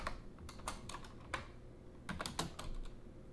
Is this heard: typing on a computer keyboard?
yes